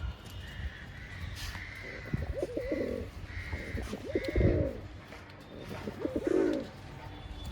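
A pair of fit kalshila pigeons, male and female, coo in low, throaty bursts at a moderate distance, three or four rounded calls spread over a steady background hiss.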